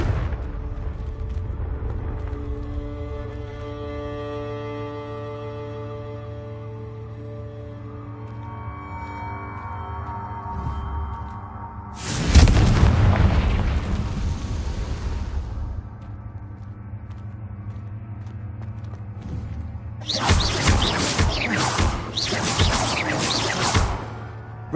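Two heavy, booming blasts from Confringo fire spells in the game Hogwarts Legacy on PS5, each lasting a few seconds, one near the middle and one near the end, bursting loudly over a steady musical score.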